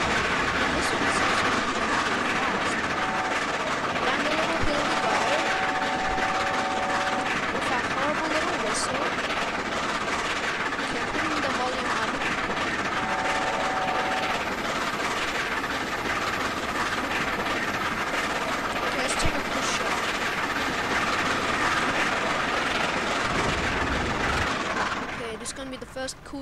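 The Mallard steam locomotive runs fast in a train simulator game, a steady loud rolling rumble with rail clatter and brief whistle-like tones throughout, continuous and close, with speech over it.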